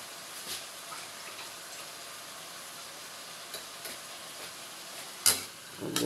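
Garlic and onion sautéing in a pan make a soft, faint sizzle under light clinks and stirring, with a louder utensil clatter near the end.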